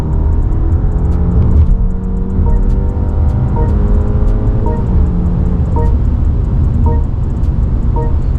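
A 2024 BMW 5 Series engine drones steadily while accelerating at high speed with road rumble, held loud and continuous throughout with faint whirring overtones.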